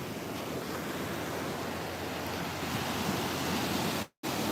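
Ocean waves at Malpe Beach roll in as a continuous broadband wash of surf with wind noise, steady and fairly loud, breaking off briefly near the end.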